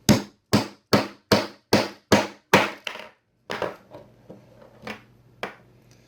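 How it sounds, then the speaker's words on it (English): Sharp repeated hammer blows drive a brass .44 Magnum cartridge case into a Lee Loader resizing die: seven loud, evenly spaced metallic-wooden strikes, then several lighter, more scattered taps with some background noise. "now we're simply going to hammer this back down in there and get it to the proper size"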